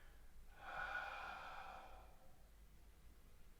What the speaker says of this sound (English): So breathing out.